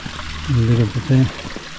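Waterfall in the hills of SE Queensland, heard as a steady broadband rush of falling water in the background while someone talks over it.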